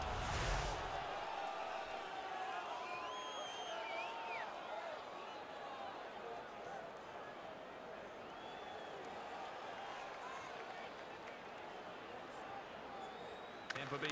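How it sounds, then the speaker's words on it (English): A hockey arena crowd in the NHL 15 video game cheers after a fight, a constant loud wash of crowd noise throughout, with commentary talking over it. "The crowd is ecstatic."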